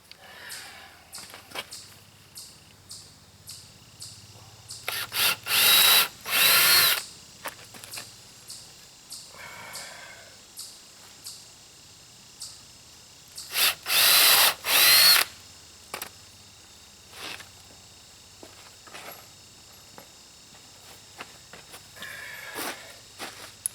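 A cordless power screwdriver whirs in two loud bursts of several seconds each, driving screws into a pallet wood gate frame, with softer handling and shuffling noises and quieter brief spins between them.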